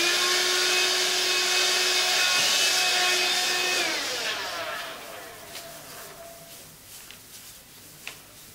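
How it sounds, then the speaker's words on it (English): A vacuum whines loudly up close while picking up clipped hair from a patient prepped for surgery, then powers down into a fading hum with a few faint knocks. "Vacuum and lint brush the hair."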